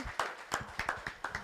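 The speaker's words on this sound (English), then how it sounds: "A round of applause." A small round of clapping for a panelist at a success seminar, about ten distinct claps in a brisk, slightly uneven rhythm, close and moderately loud.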